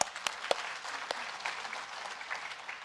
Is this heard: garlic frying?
no